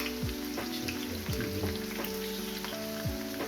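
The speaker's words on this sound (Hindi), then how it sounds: "ये फ्राई पैन में रखे हैं, घी डाल के ये गर्म हो चुका है। ये प्याज डालेंगे" Steady crackling sizzle of onions frying in hot ghee in a frying pan, close by, with light clinks and scrapes of a utensil in the pan.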